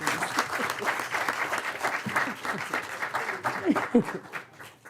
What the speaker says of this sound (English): let's give a special round of applause and congratulations